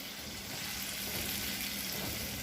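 Coconut oil sizzles steadily in a frying pan for a shrimp and chicken stir fry, a constant close hiss with no talking.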